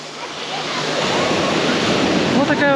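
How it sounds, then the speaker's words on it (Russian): Small, gentle sea waves wash onto the crowded Lazarevskoye beach in the morning, a steady close surf hiss with some wind noise and no clear talk. "Небольшая такая приятная волна, как раз детвория."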